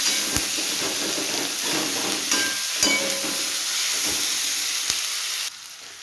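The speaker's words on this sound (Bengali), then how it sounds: "পেঁয়াজটা এবারে লাল লাল করে ভালো করে ভেজে নেব।" Chopped onions fry in a pan for a prawn dish, giving a steady, close sizzling hiss broken by a few soft stirring knocks, with the sizzle easing slightly near the end.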